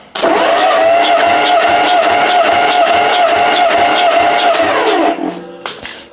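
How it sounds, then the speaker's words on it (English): A Dodge Plymouth 230 engine with all spark plugs out and throttle wide open cranks on the starter for a compression test, a loud close rhythmic whirring chug lasting about five seconds before stopping abruptly. "we'll do a compression test. Just got all the spark plugs out and the throttle wide open"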